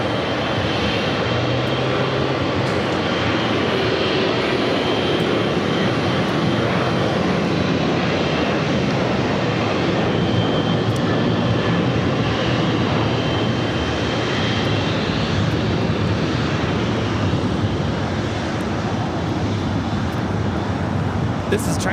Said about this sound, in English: This is China Cargo Airlines 221 coming in from Shanghai on a 777 freighter